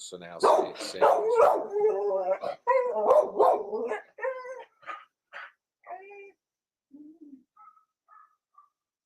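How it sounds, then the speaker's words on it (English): A neighbor's dog barks in a few short, sharp bursts under and between close conversational speech, with faint higher yips trailing off toward the end as the talk fades. "That was the neighbor's dog barking."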